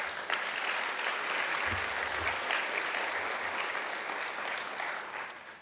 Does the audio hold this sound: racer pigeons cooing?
no